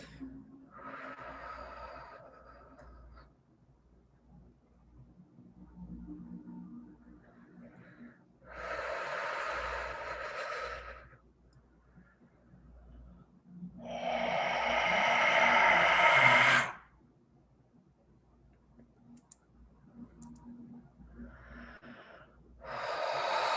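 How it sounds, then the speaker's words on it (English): A person takes slow, deep breaths during a guided group healing meditation, with long audible inhales and exhales spaced several seconds apart and a faint steady hum underneath. "And breathe."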